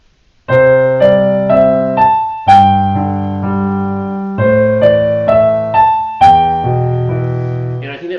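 A short jingle played on a keyboard, repeated twice, the melody's notes landing slightly unevenly over sustained chords.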